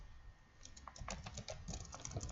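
Soft, steady clicking of keys on a computer keyboard, close by and quiet, starting sparse and growing into a continuous run of taps.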